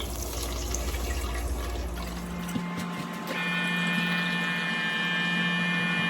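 Water pours steadily into a cooking pot holding three glasses of rice for prawn biriyani, a continuous rushing fill that changes pitch partway through as the level rises; no speech.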